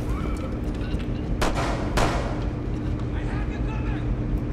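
Gunfire in a video game, a few sharp shots standing out at moments over a dense, steady background of game sound and talking.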